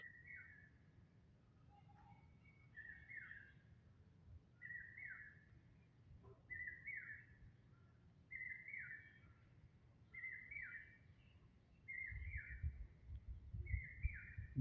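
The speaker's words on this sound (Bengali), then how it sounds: "বিভিন্ন রকমের পাখির ডাক শোনা যাচ্ছে একদম বিভিন্ন রকমের" A bird repeats a short whistled call at regular intervals, faint and distant in a quiet village garden.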